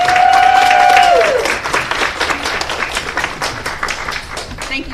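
Audience applause at a graduate hooding ceremony for occupational therapy students swells into steady clapping across a large room, rising after a brief sustained tone fades and carrying on evenly throughout.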